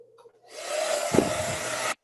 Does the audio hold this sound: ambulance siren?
no